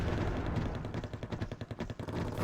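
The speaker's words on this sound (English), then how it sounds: "And here come the mortars" Mortar rounds land in the Wargame AirLand Battle strategy game, a rapid, heavy string of booming impacts and blasts packed tightly together, loud and dense for a couple of seconds.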